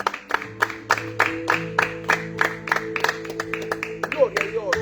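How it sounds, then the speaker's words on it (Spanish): A church congregation claps hands in a steady rhythmic beat, sharp repeated claps over sustained organ or keyboard chords and voices, close and lively. "Dele palmas a Dios."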